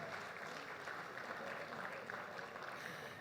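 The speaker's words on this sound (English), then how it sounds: "please a round of applause for cooperative societies across the world" Applause at a cooperative awards ceremony, a faint, distant wash of many hands clapping, steady and sustained over a few seconds, with a low murmur of the crowd beneath.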